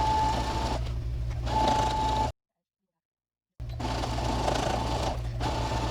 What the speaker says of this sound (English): you want to take it over to your sewing machine, and you're going to sew along all these lines that you drew